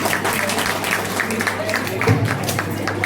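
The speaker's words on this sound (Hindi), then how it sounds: "एक बार जोरदार तालियां" Audience applause at a university foundation day ceremony, a steady dense clapping held at an even level for about three seconds, with faint voices mixed in beneath it.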